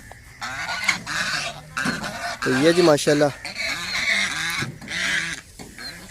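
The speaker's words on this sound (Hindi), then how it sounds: "बतखें हैं, शोर बहुत डालती हैं।" Ducks on a farm and play centre honk and quack in a noisy, near chorus of repeated calls that runs throughout, with someone talking over them.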